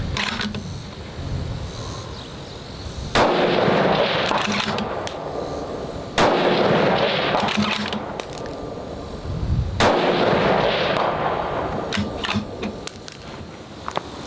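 Long range rifle shots fired outdoors, three sharp loud reports spaced a few seconds apart, each trailing off into a decaying rumble, with a steady wind-like background and small clicks between shots.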